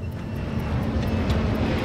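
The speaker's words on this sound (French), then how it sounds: "Au départ, il a fait le bruit de n'importe quel avion." A reenacted Airbus A300 airliner engine gives a steady, loud roar with broadband rumble and hiss. It is continuous and unbroken throughout, with no voices.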